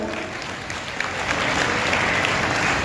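Audience claps at a religious ceremony for a chaturmas kalash installation, a continuous wash of applause that swells slightly partway through and holds.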